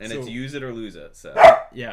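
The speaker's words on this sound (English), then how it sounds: "pardon the dogs" Dogs barking in the background of a home livestream, one short loud bark cutting through close conversation between people talking.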